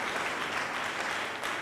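A church congregation applauds during a sermon, a dense sustained wash of clapping from many hands that stays steady and fills the whole space.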